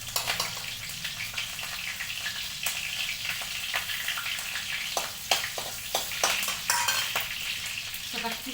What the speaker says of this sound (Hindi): तेल गरम हो गया, मिर्च का तड़का दूंगी।